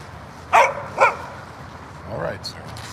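A dog barks twice in sharp, close succession, then gives a softer whimpering yelp a moment later, heard nearby in a short outdoor exchange.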